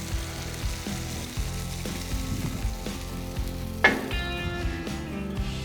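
Bison brats cook in root beer in a pan, giving a steady bubbling sizzle throughout with occasional louder pops and a brief clatter near the end, close and without talk.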